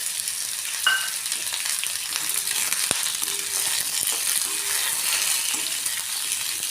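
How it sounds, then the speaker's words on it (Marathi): Sesame seeds, cashews and almonds frying in oil, a steady close sizzle with light stirring scrapes and a sharp clink of utensil against the pan, no speech. "हे तेलात छान फ्राय होईल।"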